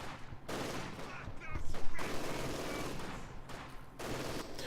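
Machine gun fire in the snowy winter battles of the Company of Heroes 2 strategy game: sustained rattling bursts under a dense battlefield din, with scattered distant shots and crackling throughout.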